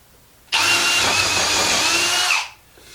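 A Milwaukee 2603 M18 Fuel drill driver running a 9/32 bit on fast speed, a loud whirring burst lasting about two seconds that starts abruptly and winds down, close and alone.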